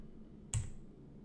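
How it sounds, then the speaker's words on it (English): A single sharp key press on a computer keyboard, one crisp click in an otherwise quiet room. "Just press up on your keyboard."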